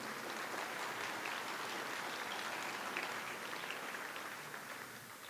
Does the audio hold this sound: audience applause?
yes